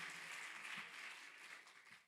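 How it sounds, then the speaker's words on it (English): An audience at an end-of-program graduation ceremony applauds in a steady, dense wash of clapping, heard fairly faintly and trailing off at the end. "Let's give everyone a round of applause."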